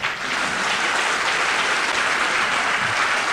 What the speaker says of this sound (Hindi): वैसी तालियां इनके लिए बजा दीजिए आप